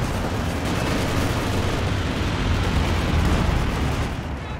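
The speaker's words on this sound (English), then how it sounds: "this does like some machine gun passes and then the anti-tank passes" Strafing runs from an airborne assault in a video game, with machine gun passes and anti-tank passes, come through as a dense, continuous roar of rumbling fire and explosions that stays loud and steady without a break.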